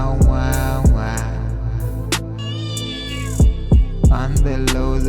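A cat meows repeatedly in loud, close, drawn-out calls with sharp sliding pitch, several separate meows spaced across a few seconds, set within a music track with no talking.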